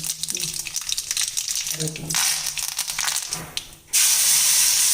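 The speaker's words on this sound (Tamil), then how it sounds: "இப்போது கடுகு தாளிக்கிறாங்க" Mustard seeds and asafoetida crackle and hiss loudly in hot oil while tempering chutney, the sizzle swelling suddenly into a bright, spitting roar near the end, with background voices.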